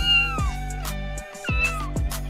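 A black cat gives two loud, drawn-out meows, each rising then falling in pitch, over a steady musical backing.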